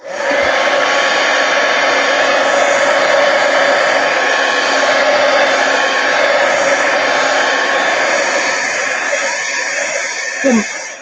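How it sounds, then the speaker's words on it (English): A heat gun blows steadily at a crafting table used for stencil art journaling, a loud continuous whirring hiss of fan and hot air that holds even for the whole stretch, close by and with no speech over it. "Heat gun."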